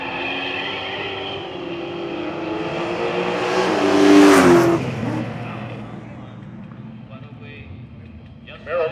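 Camaro and Nova drag-racing cars on drag radials accelerating down the strip at a dragstrip reunion: a loud engine roar builds and swells to a peak mid-way, then fades as the cars pull away, with a voice talking over it.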